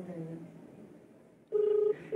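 An outgoing phone call rings as a single steady electronic ringback tone, short and close. A faint murmur of talk comes before it.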